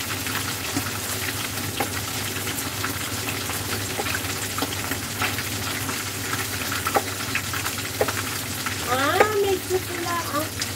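Chicken wings sizzle and crackle steadily in hot oil, with occasional sharp pops and brief clinks, fairly quiet and close.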